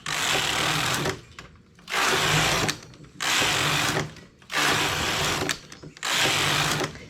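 A knitting machine carriage knits English rib stitch in five loud, close, whooshing mechanical passes, each about a second long and separated by brief quiet gaps.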